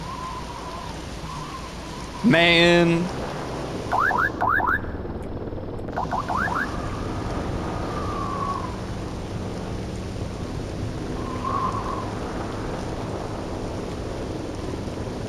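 Steady rain falls with a rumble of thunder in the video game Voices of the Void, a constant wash of rainfall, with someone talking briefly.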